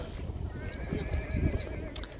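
A horse whinnies with a wavering high call over nearby clip-clopping hooves and low rumbling movement.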